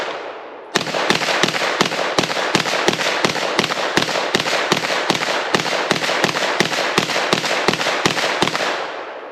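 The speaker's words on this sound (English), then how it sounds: "pop a mag in it and see how it goes. Very first shots" A Beretta PMX-S firing on a range with a factory 30-round magazine, a rapid, evenly spaced string of about two dozen loud, sharp shots that stops cleanly after roughly nine seconds.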